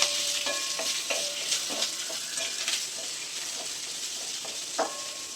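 Onions sauté lightly in a pan for egg gravy, giving a close, steady hiss with small spatters and occasional stirring scrapes.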